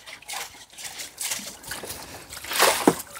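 Water in a nearly drained hot tub being pushed along the shell toward the drain, giving uneven splashes and sloshing surges, close by and moderately loud.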